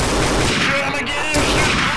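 Dense, loud video-game gunfire in Garry's Mod rattles continuously with rapid overlapping shots, a brief dip midway, and some voice mixed underneath.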